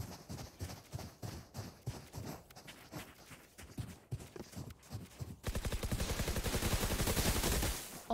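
Rapid gunfire in the video game Valorant: spaced single shots and bursts at first, then a loud sustained stream of automatic fire toward the end.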